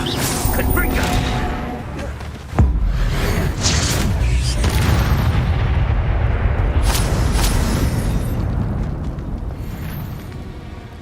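Fiery Confringo spell blasts in Hogwarts Legacy land with a sudden heavy boom, trailed by a long roaring rumble and crackling debris that slowly fades, with scattered smaller impacts along the way.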